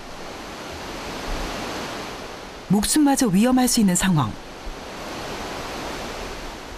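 A fast-flowing waterfall produces a steady, full roar of rushing water throughout, while a voice speaks over it for a couple of seconds in the middle.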